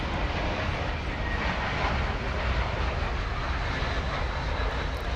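An Airbus A321 airliner on a flight from Fresno arriving at DFW Airport, heard as a steady, broad engine roar that stays loud and even throughout, with no talking.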